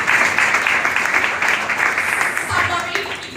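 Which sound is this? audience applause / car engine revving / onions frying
audience applause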